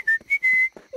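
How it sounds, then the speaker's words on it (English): Clear whistling from a person, three short bright tones in quick succession with brief gaps, the last held longest, then a faint fragment starts at the end. "Yes, I can whistle."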